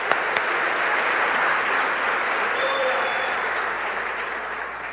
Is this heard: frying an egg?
no